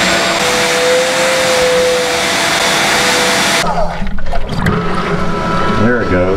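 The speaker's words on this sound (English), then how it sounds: "Every once in a while these pumps start, but they don't start pumping." A pump in a boat's engine room whines and rushes loudly for several seconds, then cuts out, leaving quieter gurgling, knocking and a person talking nearby.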